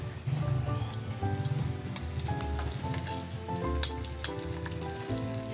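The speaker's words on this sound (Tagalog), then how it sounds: "Gisa na tayo. Start natin sa bawang." Garlic sautéing in oil in a pan, a dense continuous crackling sizzle with faint utensil clinks over a low hum, no talking.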